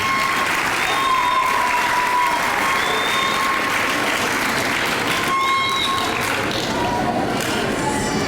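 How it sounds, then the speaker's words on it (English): Sustained applause at a sixth-grade graduation ceremony, a dense crowd clapping steadily and loudly throughout, with faint tones ringing through. "a big round of applause"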